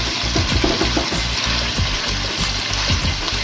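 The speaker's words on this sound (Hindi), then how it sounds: "इसको अच्छे से फ्राई करेंगे। ये जल्दी फ्राई हो जाता है" Finely minced keema frying in a pan, a steady loud sizzle with rhythmic scraping and stirring strokes throughout.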